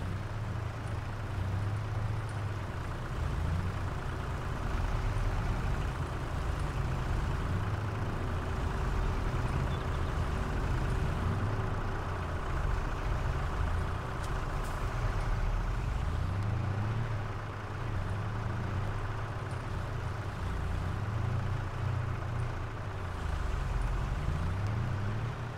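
A truck in Farming Simulator 22 rumbles steadily with a low, pulsing engine drone that rises and falls in repeating cycles, loud and continuous.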